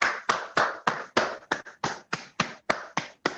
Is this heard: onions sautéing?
no